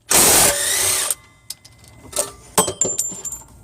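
A ratchet loosens the lower mount bolt of a Toyota Sienna's rear shock absorber, with a loud close burst of metallic clicking followed by scattered clanks and tool-handling knocks.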